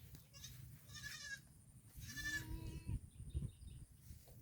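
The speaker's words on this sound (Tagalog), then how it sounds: "Ayun mga kambing oh." Goats on a Philippine farm field bleat nearby in two or three wavering calls, one after another, over faint outdoor background noise.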